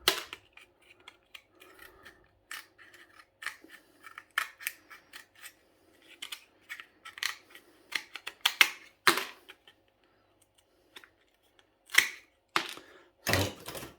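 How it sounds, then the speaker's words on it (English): Cutters snip gold fingers off circuit boards in a close, quiet series of sharp, irregular clicks and snaps, some louder than others, with short gaps between cuts. "So all I'm doing is taking these and again just snipping them off."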